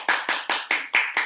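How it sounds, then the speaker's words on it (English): Six sharp, evenly spaced claps at close range, one per beat, during a school teaching demonstration, with no talking. "we're going to applaud"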